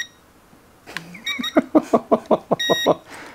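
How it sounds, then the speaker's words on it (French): A cheap drone gives a series of short electronic beeps in a quick regular rhythm, close by, mixed with a few higher chirping tones and faint handling noise. "À part une machine qui fait bip bip"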